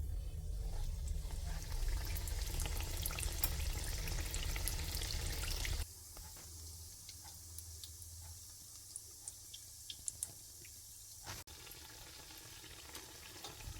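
Dough for beignets fries in hot oil, a dense steady sizzle that holds loud for several seconds, then drops to a quieter crackle with scattered pops and faint ticks, with no voices.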